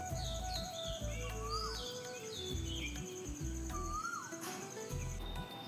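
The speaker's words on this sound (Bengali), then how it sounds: "পাখির ডাক শুনতে বেশ ভালো লাগছিল।" Several birds sing and chirp in the early morning from a rooftop, with varied whistles and short calls overlapping in quick bursts, clear and fairly close over a steady low hum, no talking.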